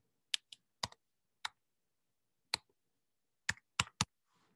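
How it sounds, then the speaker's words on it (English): Numbers being typed on a computer keyboard: about nine crisp, separate key clicks in an uneven rhythm, close and clear against near silence. "I can type in this"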